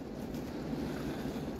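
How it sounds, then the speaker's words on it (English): Steady rain falling outside, a continuous even wash of noise with no individual drops standing out, heard indoors for a moment with no one talking. "Hear the rain outside?"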